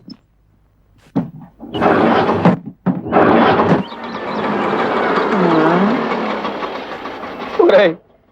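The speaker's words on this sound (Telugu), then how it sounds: "ఇంకో ఆటో వచ్చి ఆగింది" An auto rickshaw pulls up and stops in a Telugu comedy film scene, its engine rumbling in bursts and then a sustained drone before cutting off, with voices in the background.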